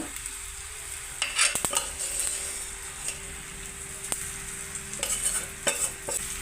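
Mashed raw banana fries with onions in a pan while being stirred, giving a steady low sizzle broken by sharp scraping clicks of the spoon against the pan, with no voices.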